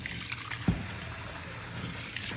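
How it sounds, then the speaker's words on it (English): Room-temperature tap water trickles and splashes faintly while rice is being washed and soaked, with a soft knock near the start. "Normal temperature water from the tap."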